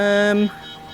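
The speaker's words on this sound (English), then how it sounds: "And that's the alarm, and that's not good." A submarine alarm in the VR game IronWolf VR sounds a loud, steady, buzzing harmonic tone that cuts off abruptly about halfway through, leaving a low hum.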